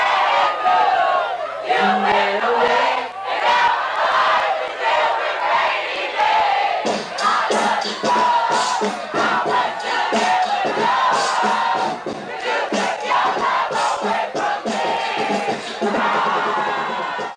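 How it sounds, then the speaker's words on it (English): A dense club crowd at an underground house party shouts and chants together, loud and continuous with rhythmic surges of voices and cheering throughout. "Being in the crowd, chanting every word."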